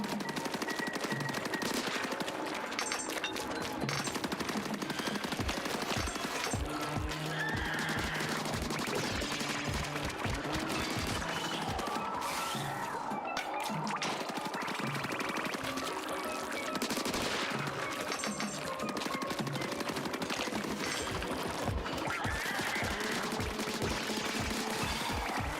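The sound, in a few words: gunfire from a new gun in the video game Splatoon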